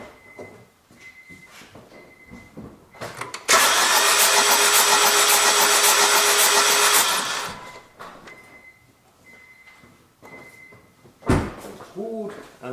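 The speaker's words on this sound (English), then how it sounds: "now I go to start engine" A car engine cranks and catches during an ignition coil test, giving a loud, dense roar that holds steady for about four seconds before dropping back to a quieter idle, with a voice talking before and after.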